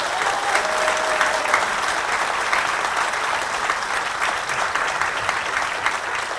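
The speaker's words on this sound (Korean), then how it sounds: "박수 한번 부탁드립니다." Steady, dense applause from a large audience of local residents at a political party town-hall meeting in Seongju, holding even and loud for several seconds without a break.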